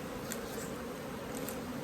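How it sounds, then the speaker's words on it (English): Bees buzz around backyard hives near flowering ivy, a faint, steady, diffuse hum with a few brief louder passes close by. "Look at all the bees, you know. I don't know if you can hear them."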